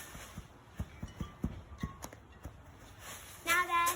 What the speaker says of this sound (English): let me see you stomp your feet